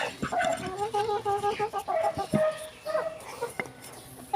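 Hens cluck repeatedly inside a henhouse, a steady overlapping chorus of close, busy calls with a few sharper squawks, and no talk over them.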